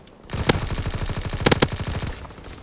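Rapid, steady automatic gunfire in Call of Duty WWII, a close, loud burst of evenly spaced shots with a few sharper cracks standing out, no talking.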